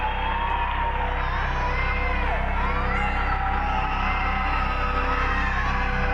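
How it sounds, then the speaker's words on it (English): Loud, dense crowd noise from the Poppy Playtime Chapter 3 teaser trailer, with clapping and cheering layered over high screaming, continuous throughout with no gaps. "it's like the clapping and the cheering is like over the screaming"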